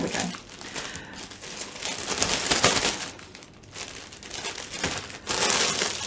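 A plastic bag of homemade chocolate Easter treats crinkling and rustling close by, handled continuously with bursts of louder crackle, while a person talks over it.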